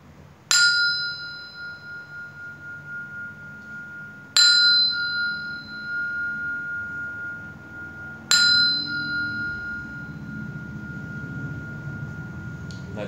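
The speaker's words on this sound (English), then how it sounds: "I'm just going to sound the bell" A temple bell is struck three times at a meditation session, each strike ringing out clearly and decaying slowly over several seconds, with quiet room ambience between strikes.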